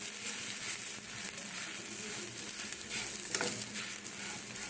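Spinach paratha fries in plenty of oil in a pan, giving a steady, close, bubbling sizzle that runs the whole time with a brief louder crackle partway through and no voices.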